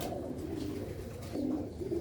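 Sialkoti roof pigeons cooing softly, a few low, rounded coos rising over a faint background, quiet and close with no talking.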